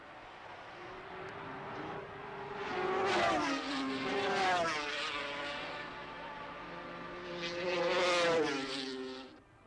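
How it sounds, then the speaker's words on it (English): Racing motorcycles, including a Kawasaki, scream past at Oulton Park in a 1977 race, two loud engine passes with rising and falling pitch swelling near and fading, no talk over them. "Phil Reed still cracking round on his Kawasaki"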